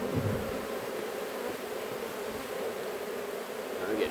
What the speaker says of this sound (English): I'm getting buzzed pretty severely